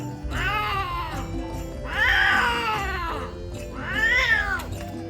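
A cat meows repeatedly on a street on Phi Phi Island, Thailand, three long, loud, close wailing calls rising and falling, with short pauses between them and no talking.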